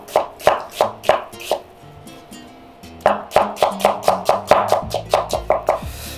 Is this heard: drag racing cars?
no